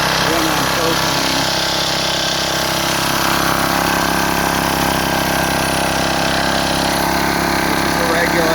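A Phoenix CDY2500L generator running on propane, its small engine droning steadily and loudly from start to finish with a constant buzzing hum and no break in pitch.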